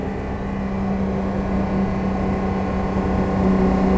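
A 1970 Mercedes 280 SL Pagode's engine running at speed, a steady close droning hum with a strong low tone that swells slightly toward the end, loud and unbroken with no voices.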